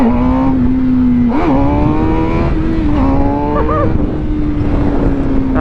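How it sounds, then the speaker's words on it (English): A Suzuki GSX-R 600 motorcycle engine holds a loud, steady high-pitched drone with slight rises and falls as it is revved through a clutch-up wheelie. "I'm getting a lot better at getting my clutch up wheelies going"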